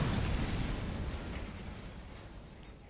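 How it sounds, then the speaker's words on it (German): Explosion in a shooting video game, a loud booming blast that rumbles and slowly fades over a few seconds with no talk. "die Dinger äh, explodieren immer mehrfach."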